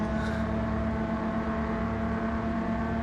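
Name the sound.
car driving in a VR racing video game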